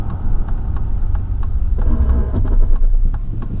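A 1999–2004 Chevrolet Silverado with a 4.8 or 5.3 V8 under acceleration, its engine and fan clutch producing a steady, loud, low roar that swells slightly midway, heard from close by with no talk.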